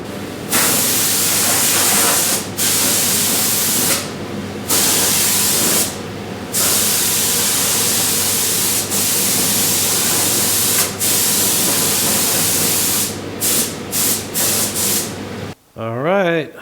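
A spray gun sprays DTM paint across a GTO restomod's interior in long, loud, sustained hissing bursts, broken by several short pauses and quick triggered puffs near the end, with no voices.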